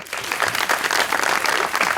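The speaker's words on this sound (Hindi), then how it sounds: "अपने लिए तालियां बजाओ।" Steady applause from a studio audience at a TV talk show, dense and fairly loud, continuing without pause throughout.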